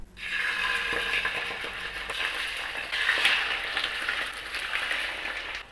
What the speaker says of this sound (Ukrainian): На гарячу пательню викладаю кусочки курячого стегна.